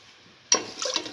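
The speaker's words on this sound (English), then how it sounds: "Pour in 100 ml of water." Water is poured into a pot of split pigeon pea mixture in a kitchen, a brief close splash and trickle that starts suddenly and lasts under a second.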